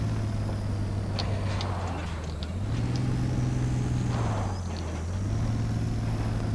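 A truck engine in the SpinTires off-road video game drones at a low idle, rising in pitch as it revs and then settling back, steady and close with no talking.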